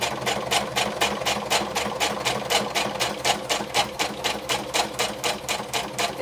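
A home sewing machine stitching fabric at a steady pace, its needle producing a fast, even mechanical chatter that stays close and loud throughout, with no one speaking.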